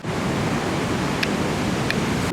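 Ocean waves on a beach at Sabang Beach in Baler, a dense, steady roar of surf heard close and loud, with a couple of faint high chirps over it.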